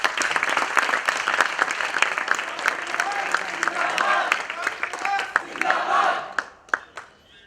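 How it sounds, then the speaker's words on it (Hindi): An audience claps loudly after a play about Netaji, a dense burst of applause with scattered cheers that runs strong for several seconds, then thins into a few last isolated claps. "आज की इस शानदार प्रस्तुति को हम तालियों के द्वारा"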